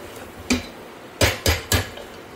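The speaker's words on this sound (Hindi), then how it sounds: "मटन भूनते हुए ही मैं येलो बटर डाल रही हूँ" Mutton keema being roasted in a pan for a pressure-cooker recipe, with yellow butter added, sounds as four sharp metallic knocks of a spoon against the pan, one alone and then three in quick succession, over a quiet background.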